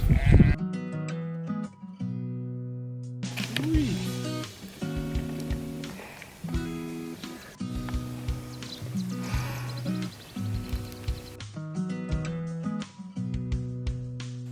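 Sheep bleating near small huts in the Peruvian highlands, with repeated loud, close bleats from several animals in a row.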